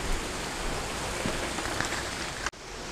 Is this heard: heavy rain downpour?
yes